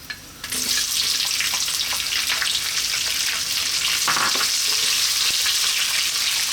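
Onion hits hot spiced oil for a vegan biryani, setting off a sudden loud, sustained sizzle that stays strong and dense to the end, with brief scraping touches partway through; no one speaks.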